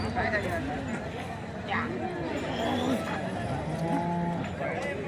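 Cows moo repeatedly at a crowded cattle market in Chalisgaon, drawn-out calls rising over a constant murmur of people chatting nearby.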